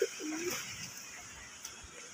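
Pigeons in a loft, a single soft low coo near the start, faint and close, followed by quiet rustling room noise.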